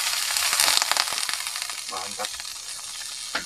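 Water poured into a hot cooking pan bursts into loud sizzling that crackles and steams, then settles into a softer, uneven hiss.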